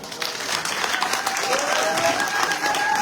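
A gathered audience claps for an introduced activist, dense applause with a few voices audible over it.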